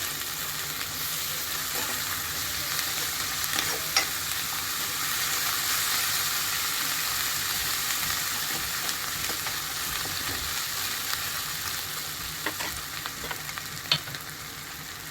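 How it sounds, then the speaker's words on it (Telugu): Turmeric and ginger garlic paste sizzle steadily in a hot pan while a spoon stirs, giving a continuous bright frying hiss broken by occasional scraping clicks. "లైట్గా పసుపు వేస్తున్నాం. అల్లం వెల్లుల్లి పేస్ట్ వేస్తున్నాం."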